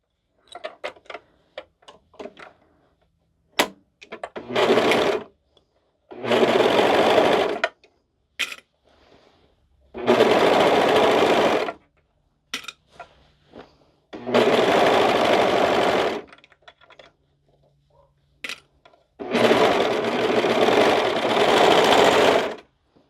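A sewing machine stitches the shoulder seams of a knit butterfly cardigan in five or six loud, steady runs of several seconds each, separated by quiet pauses with small clicks.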